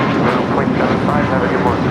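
Sun Country Boeing 737-800 jet at LAX, a loud, broad steady engine roar filling the short stretch with constant rumbling noise and no breaks.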